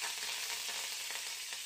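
Curry leaves sizzle in hot oil for a brennera palya of brinjal, a steady close crackling frying hiss with small pops throughout, no voices.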